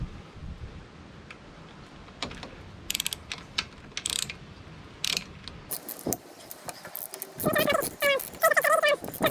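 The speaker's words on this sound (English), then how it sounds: "now we can go on around the other side and loosen the leg" A ratchet loosens the leg bolts on a Yamaha 15 HP outboard motor during a water pump replacement. Short bursts of quick metallic clicks come in uneven groups over a quiet workshop background.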